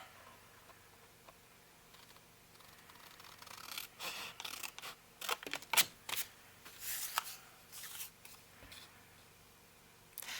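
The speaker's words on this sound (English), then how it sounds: "But I do really like these scissors for smaller items." Small sharp-tipped scissors snip paper for a vintage file folder journal, giving quiet, close, irregular crisp cuts and rustles in a hushed room.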